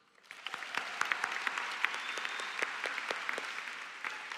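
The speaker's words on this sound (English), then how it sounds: "I think we deserve a round of applause for that" Applause from a high school graduation audience at a commencement ceremony, steady clapping that builds quickly and holds dense and even throughout, fairly distant in a large space.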